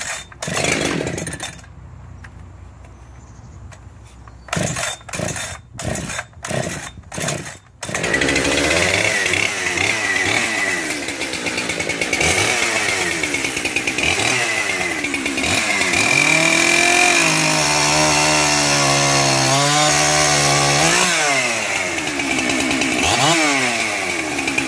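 A modded Husqvarna 372XP XTorq chainsaw fires up after a few short bursts and brief pauses, then runs loud and steady at close range, its high-revving engine note rising and falling.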